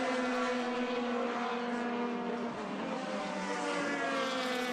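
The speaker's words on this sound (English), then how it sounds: "this is a beautiful sound going by here with all these formula cars, open wheel engines coming by" Open-wheel formula race cars passing at Laguna Seca during a vintage race, a loud continuous high engine whine with layered rising and falling pitches as cars sweep by, fairly distant and steady.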